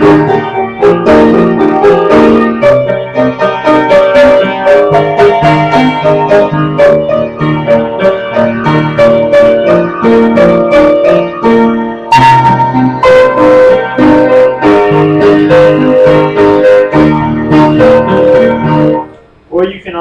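Solo piano plays the transition passage of a song, a continuous stream of loud, sustained chords and melody notes leading back into the main part, with a brief pause near the end and no voices.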